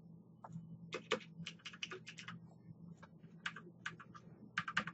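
Someone types on a computer keyboard nearby, a quick irregular run of crisp key clicks with short pauses and no talking.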